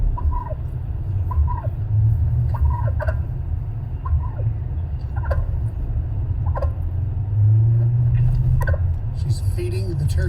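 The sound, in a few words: turkey gobbling while being fed bird seed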